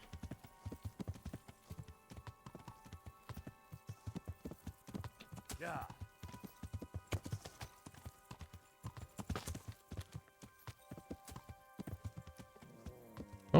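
Horse hooves clip-clop at a steady gallop in the video game Kingdom Come: Deliverance, a continuous close rhythmic drumming with brief voice-like sounds over it.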